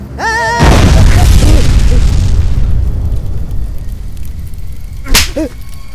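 A loud, deep explosive boom bursts out and rolls into a long rumbling decay, followed by a sharp crack and brief whooshing tones near the end.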